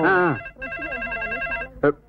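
A landline telephone rings indoors in a Telugu film comedy scene, giving a steady electronic trill with voices briefly heard around it.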